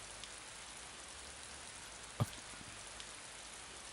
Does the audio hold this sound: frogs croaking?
no